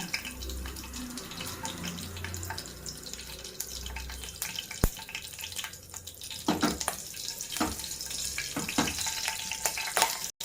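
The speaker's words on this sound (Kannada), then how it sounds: "ನೋಡಿ ಚಟ್ರಪಟ್ರ ಅಂತ ಐತೆ" Mustard seeds and red chillies crackle and fry in hot oil during tempering for a Karnataka-style sambar, with a steady hiss, scattered sharp pops throughout, and occasional louder spits, close and fairly loud with no talking.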